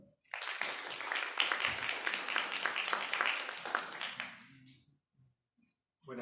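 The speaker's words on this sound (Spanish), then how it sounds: "Entonces, lo recibimos al profesor con un fuerte aplauso." A room of listeners at a university biology symposium on coastal wetlands breaks into a burst of close applause lasting about four seconds, then fades to near silence.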